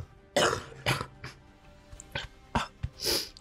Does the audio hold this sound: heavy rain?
no